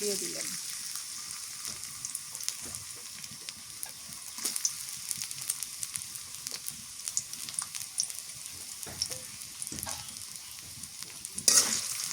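Chili and cumin paste fries quietly in a pan, a soft continuous sizzle broken by scattered stirring scrapes and clinks, with a louder clatter near the end.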